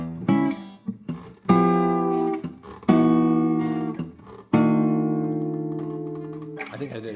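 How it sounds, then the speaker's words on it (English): Jazz-blues fingerstyle guitar playing a quadruple bend: a pre-bent chord is struck several times, each ringing clearly as its notes slide downward, with the struck chords spaced a second or two apart. "one of my favorite tricks, which is the quadruple bend"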